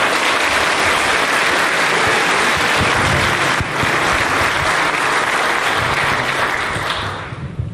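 Sustained audience applause welcoming a guest onto a conference stage at a DEF CON social engineering village panel, steady and loud throughout, tapering off in the final second.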